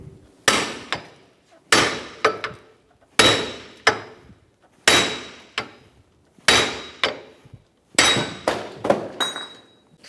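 A hammer strikes a 2003-2007 Infiniti G35 front wheel hub to drive it out of its bearing, six loud metallic blows with ringing decay, evenly spaced, some doubled.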